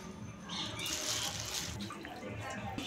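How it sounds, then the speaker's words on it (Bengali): Tap water runs steadily into a sink while meat is washed by hand, a continuous splashing rush with occasional clatter, under a faint home-kitchen background, fairly close. "এই যে মাংস ধোয়া হচ্ছে"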